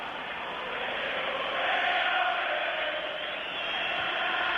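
Some 15,000–20,000 Danish supporters roar in an outdoor stadium during a 1983 European Championship qualifier against England, a steady wash of crowd noise that swells around the middle and stays loud throughout, with no speech over it.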